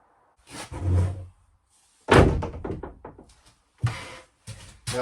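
A cupboard door on a boat being moved and shut: a soft knock, then a loud close thud with rattling after, followed by two more short knocks, nearby in a quiet cabin.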